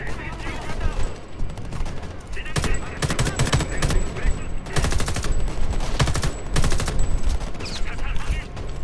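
Heavy gunfire in the video game Homefront: The Revolution, with rapid bursts and volleys of shots that crack in repeated clusters and someone talking over the shooting.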